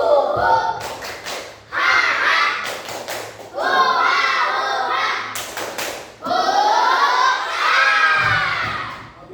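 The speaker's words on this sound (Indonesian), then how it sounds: "Kita akan melakukan tepuk rimba ya." Schoolchildren in a classroom perform the 'tepuk rimba' clapping chant, bursts of sharp rhythmic claps alternating with loud shouted group chanting, energetic and close, with a teacher's voice leading.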